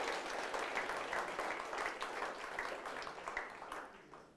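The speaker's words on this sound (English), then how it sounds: "So a big round of applause for all of them." Audience applause for finalists at a New Zealand hi-tech awards evening in Auckland, a steady dense wash of clapping from a large crowd that holds throughout and tapers slightly at the end.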